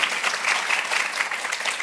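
An audience applauds the presenters after a series of talks, a dense and continuous wash of many hands clapping at once, steady and fairly loud throughout.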